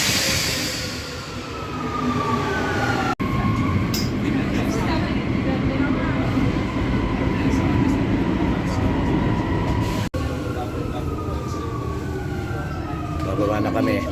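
A Rome metro train rumbles and rattles steadily along the track with a loud, constant roar, with squealing wheel tones and occasional brief jolts.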